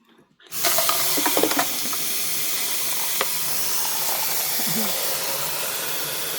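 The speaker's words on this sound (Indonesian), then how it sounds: "Di sini tuh minumnya pakai keran nih." A drinking-water tap in Norway starts running after a short silence, then pours as a steady, loud, broadband gush with a few faint clinks, and no talking.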